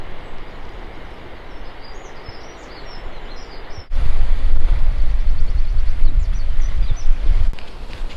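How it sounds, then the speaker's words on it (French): Birds singing along a Brittany coastal trail on a grey day, thin high chirps and warbles scattered throughout, partly masked by steady wind and sea noise that grows heavier halfway through. "On entend vraiment les oiseaux de partout."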